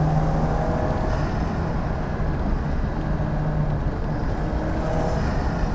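A Lancia Futurista rally restomod car drives a winding road, its engine a steady, loud, close drone with constant road and tyre noise and no talking.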